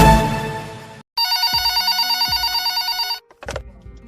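Telephone bell ringing on a radio call-in show as a caller phones in: a loud, steady double-tone ring lasting about two seconds, with short studio sounds before and after.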